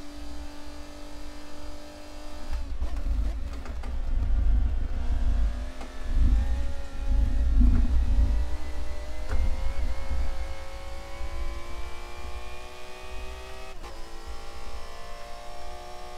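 A race car engine in Forza Motorsport 7 drones and revs loudly and continuously, its pitch climbing through gear changes, heard from close by with no talk over it.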